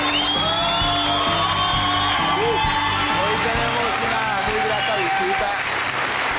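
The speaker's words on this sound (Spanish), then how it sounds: "Un aplauso fuerte para Lola" A loud studio audience on the Sábado Felices variety show applauds and cheers for Lola, with sustained dense clapping, whoops and shouts filling the room as music plays underneath.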